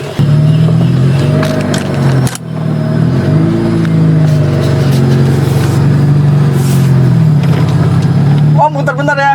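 An older Honda Estilo VTEC car pulls away and drives, its engine humming steadily from inside the cabin with a slight rise in revs, while a person talks over it.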